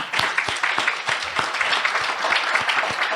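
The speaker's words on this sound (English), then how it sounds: "I want to give applause to my men in the 100" An indoor audience at a Mother's Day event applauds, a loud, close and steady burst of many hands clapping that carries on for the full stretch.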